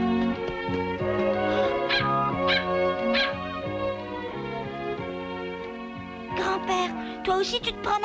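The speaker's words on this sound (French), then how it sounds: "Pour lui, Belle n'était que ce qu'on appelle un bon gros chien" A big dog in a French-language cartoon whimpers, yips and barks in drawn-out, wavering cries over continuous background music.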